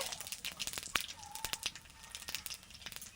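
Nigella seeds hit hot mustard oil in a pan, producing quiet, close sizzling with sharp crackles and pops scattered throughout.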